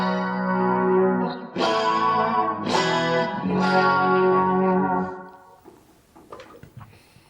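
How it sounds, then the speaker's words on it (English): Electric guitar played through a Boss GT-8 multi-effects unit with pan delay and stereo chorus, several sustained chords ringing out with shimmering modulation, then trailing off into quieter delayed repeats and picking. "My delay, I've switched to a pan delay, so now I'm getting a kind of a cool sort of, you can hear it going left and right"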